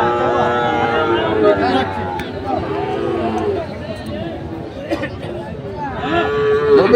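Sahiwal bull calves at a busy village cattle market moo in long, drawn-out calls, nearby and loud, over a constant hubbub of people talking.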